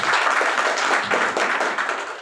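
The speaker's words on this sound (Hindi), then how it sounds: "सभी के लिए जोरदार तालियां होनी चाहिए" Audience clapping steadily at a business plan presentation, a dense, even wash of applause from many hands lasting the whole moment, fairly loud and close with no talking over it.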